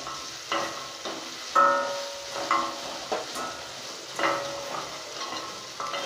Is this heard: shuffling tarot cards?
no